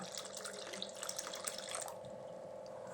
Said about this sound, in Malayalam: രസം ഉണ്ടാക്കാൻ എത്രമാത്രം വെള്ളം ആവശ്യമുണ്ടോ അത്രയും വെള്ളം ഞാൻ ചേർത്ത് കൊടുക്കുകയാണ്